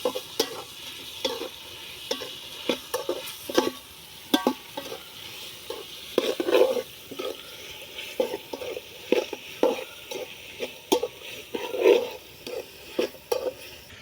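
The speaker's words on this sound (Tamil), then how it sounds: "அடுத்தது தக்காளி போட்டுக்கலாம் மூணு தக்காளி இருந்துச்சுருக்கேன் ஃப்ரெண்ட்ஸ் இது நல்லா வதங்கணும்" Three tomatoes sautéing in a hot pan for chicken biryani, steady sizzle with repeated scraping and stirring strokes of a spoon, close and moderately loud, no voices.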